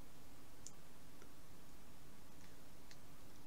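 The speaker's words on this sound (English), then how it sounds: "So if I now click on the opposite side" Faint, sparse mouse clicks at a computer, a few isolated sharp ticks spaced irregularly over a quiet, hissy background with no talking.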